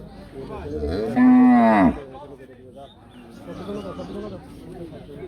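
Cattle at a traditional livestock market give one loud, drawn-out moo close by, followed by a lower background of crowd chatter and market noise.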